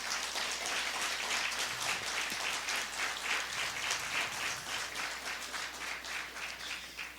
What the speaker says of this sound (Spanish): Así que denle un fuerte aplauso al Señor.